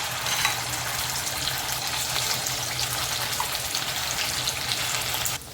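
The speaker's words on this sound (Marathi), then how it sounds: "सर्व पेस्ट टाकले मी चांगलं ते तेलावर आपल्याला पेस्ट परतून घ्यायचे" Spice paste with black peppercorns, cloves and cinnamon sautéing in hot oil for a dhaba-style mushroom and cashew curry, giving a steady, dense sizzle and crackle that runs unbroken and fairly close, with no talking.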